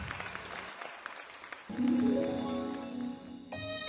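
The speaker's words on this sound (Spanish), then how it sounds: "El aplauso, señores." Guests at a quinceañera applaud across the room, a steady wash of clapping with music and crowd noise underneath that swells midway and holds to the end.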